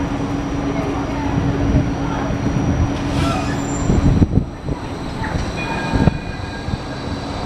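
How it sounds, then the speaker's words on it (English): A Gold Coast tram approaching along the street, a steady rumbling roll with a faint electric whine and a few clanks, moderately close over traffic and ambient city noise. "the tram is here and heading our way."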